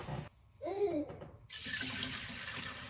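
Homemade turkey bone broth poured through a fine mesh strainer: after a few brief clinks and a short quiet gap, a steady close splashing pour runs through the second half.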